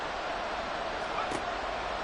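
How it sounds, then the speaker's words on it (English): Football fans in the Dog Pound end-zone section of a stadium bark and roar during a late-game timeout, a dense, steady wall of distant crowd noise that never lets up. "The dog pound barking as loud as they can here."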